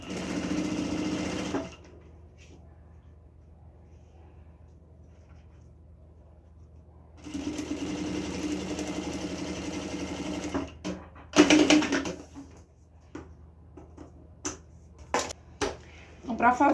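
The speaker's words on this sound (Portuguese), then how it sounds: "vai encaixar aqui no plástico e vai costurar até o final" An industrial sewing machine stitches folded bias binding onto a plastic cover for a sublimated document holder, with two close, steady whirring runs separated by a pause, followed by scattered clicks and handling knocks.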